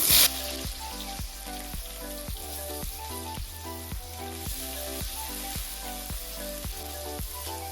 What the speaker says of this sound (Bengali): গরম হয়ে গেছে ফোড়নে দিয়ে দিচ্ছি কালো জিরে দিয়ে দিচ্ছি পেঁয়াজ কুচি